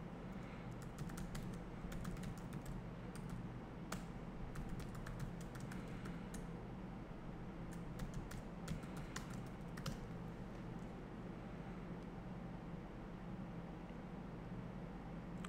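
Steady typing on a computer keyboard at close range, a continuous run of light key clicks over a low background hum, with no talking.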